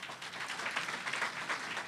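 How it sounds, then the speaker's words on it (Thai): Soft, steady applause from a crowd, somewhat distant and muted, continuing throughout. "ปรบมือให้คุณพยาวนะคะ"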